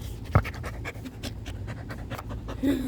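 A small dog pants in rapid, steady breaths close by outdoors on grass, with a brief sharp thump early on and a faint voice near the end.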